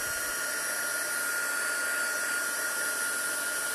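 An electric heat tool blows steadily over a stamped paper card, a continuous close airy whoosh with an even fan hum that holds unchanged for several seconds, with no voice over it.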